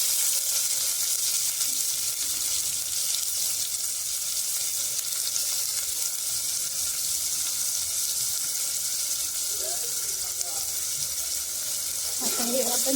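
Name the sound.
tomatoes frying in oil with browned onions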